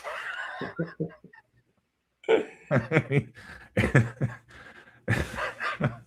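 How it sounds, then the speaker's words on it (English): Several short, harsh coughs come in clustered bursts, broken by a brief silence, close to the listener. "now you got me a coughing fit"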